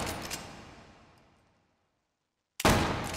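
Two Winchester 1873 rifle shots in the VR shooter H3VR: a loud sharp blast whose echo fades over about a second and a half, a brief silence, then a second sudden crack.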